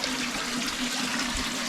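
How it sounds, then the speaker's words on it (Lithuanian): Cold mountain water runs in a steady, close rushing stream in Moldova, an even continuous splashing flow with a low hum underneath. "Čia bėga vanduo, šaltas."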